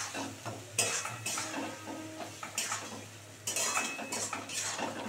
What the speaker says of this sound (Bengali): মশলাগুলো দিয়ে এবার সুন্দর করে যতক্ষণ না তেল ছাড়ছে ভালো করে কষাতে হবে।